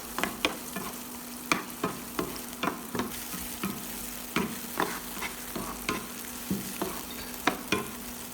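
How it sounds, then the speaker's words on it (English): Garlic, green onion and chili stir-frying gently in hot oil over medium-low heat, a soft continuous sizzle broken by regular spatula strikes and scrapes against the pan, about one every half second. "Lower the heat to medium-low and stir-fry gently."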